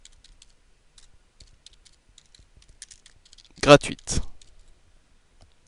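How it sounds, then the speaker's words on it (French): Light clicks of typing on a computer keyboard, entering text into a Word text box, tick sparsely and faintly before a short spoken word briefly cuts in. "Il ne me reste plus qu'à taper le texte souhaité. Par exemple ici, je vais taper dégustation"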